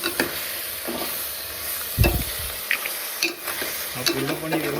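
A Konkani crab curry masala sizzles steadily while being stirred and mixed in the pan, with close scraping and a few sharp knocks of the spoon against the vessel.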